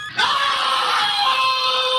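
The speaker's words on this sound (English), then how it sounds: "Some screamed." A crowd of people screams together in one sustained, loud, high-pitched outburst that holds steady for about two seconds.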